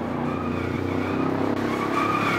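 A Valiant race car in an ACSR race at Longford slides through a corner, its engine droning loud and steady with a faint tyre scrub throughout, heard from inside the car.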